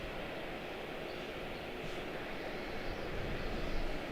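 At Charlotte-Douglas International Airport, an American Airlines jet gives a steady, broad engine roar that holds level and swells slightly toward the end, distant but filling.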